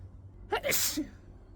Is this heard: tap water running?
no